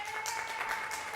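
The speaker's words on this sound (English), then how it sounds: "can you clap your hands in an enthusiastic way to make us all want to join your movement?" One person clapping hands enthusiastically at a union organizing summit for a fair economy, a few quick, faint claps in a steady rhythm over a faint hum in the hall.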